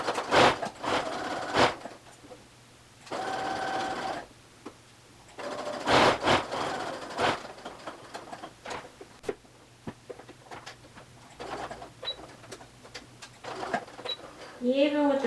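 Sewing machine stitching pocket edges on a button-front dress using a self-leveling presser foot, short bursts of rapid mechanical chatter separated by pauses, with a person talking in between.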